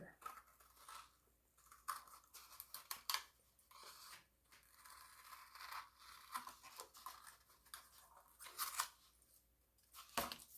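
Scissors snip through paper in quick, close bursts of crisp cuts with short pauses between, quiet and alone in a small room while a peat pot craft is made.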